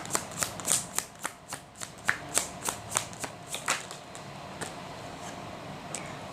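Tarot cards are shuffled in a steady run of crisp, close riffling slaps, roughly a dozen evenly spaced flicks that thin out toward the end, with no talking.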